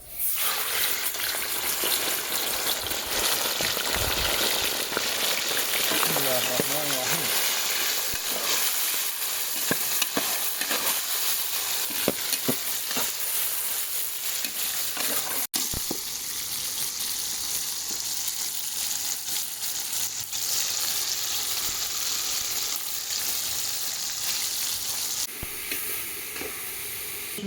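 Beef heart dropped into hot vegetable oil in a kazan sizzles loudly and steadily, with bursts of spitting crackle and stirring scrapes, while a voice speaks briefly over it near the start.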